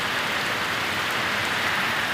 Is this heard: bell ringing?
no